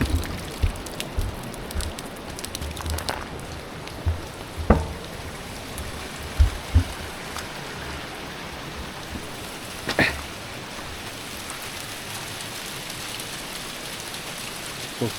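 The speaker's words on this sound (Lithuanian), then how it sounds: "Ir vėl lietučio." Rain falling outdoors on Madeira makes a steady, fairly soft hiss, with a few louder scattered drops and taps breaking through now and then.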